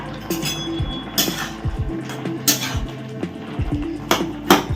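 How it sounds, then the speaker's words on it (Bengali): A lid is lifted off a pot of ivy gourd greens and vegetables cooking, giving a few sharp metallic clinks and knocks close by over a soft background hum. "পাঁচ মিনিট হয়ে গেছে ঢাকা খুললাম"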